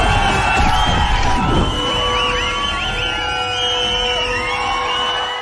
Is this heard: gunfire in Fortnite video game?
no